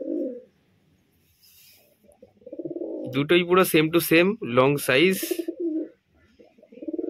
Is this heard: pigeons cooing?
yes